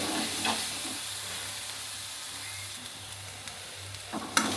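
Eggplant stir-fried in oil for baingan sabzi, releasing its oil as it cooks, a soft even sizzle and hiss with a low hum underneath and a couple of brief stirring scrapes, no speech.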